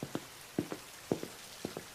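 Rain falling during a rainy evening in a poor neighbourhood, heard as soft scattered patters and drips in a quiet, steady hiss with a few louder splats at irregular intervals.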